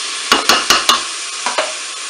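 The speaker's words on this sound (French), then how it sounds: "Je mélange." Food being stirred in a Cookeo multicooker pot: four quick spoon scrapes in a row, then a pause and two more, close and fairly loud over a faint background hiss.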